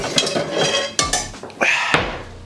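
A metal pan handled on a stove in a home kitchen while making beef bolognese potato skins; a few sharp clanks and knocks with brief scraping between them, close and clear, with no voices.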